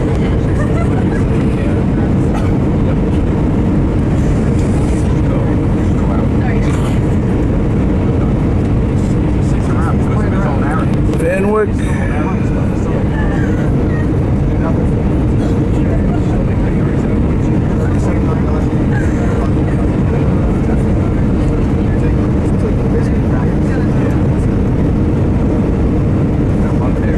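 A fixed-wing airplane passing overhead, a steady loud engine drone sustained throughout with a brief shift midway, while people talk beneath it.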